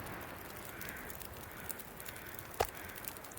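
Faint, distant crow caws in The Long Dark during overcast weather, under a low steady wind hiss, with one brief louder call partway through.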